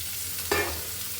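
Potatoes frying in a pan with dried fish, a steady bright hiss of hot oil with a single short scrape partway through, close and continuous.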